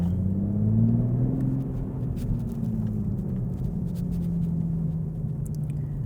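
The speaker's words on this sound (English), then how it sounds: "Why is this guy revving at me, bro?" A Toyota Supra engine drones steadily with a low rumble that rises slightly in pitch, then eases back down, close by and continuous.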